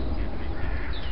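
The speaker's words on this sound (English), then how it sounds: "lovely mother duck with lots of little ducklings" A mother duck and her many small ducklings quack at a park pond, a dense, noisy burst of close calls with constant rough background.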